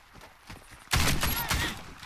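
Mk 14 semi-automatic rifle shots ring out in the online shooter Warface: a few faint muffled pops, then a loud cluster of rapid shots in quick succession, up close and without talk.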